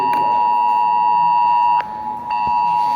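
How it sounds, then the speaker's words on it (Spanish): An electronic alarm sounds a steady, loud high-pitched tone that cuts off briefly twice before resuming, with no talking. "Alarma."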